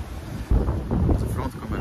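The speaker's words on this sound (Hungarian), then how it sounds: "már eléggé fúj a szél" Strong outdoor wind buffets a phone microphone near a construction site, a dense low rumble that jumps louder halfway through and keeps gusting, with faint voices mixed in.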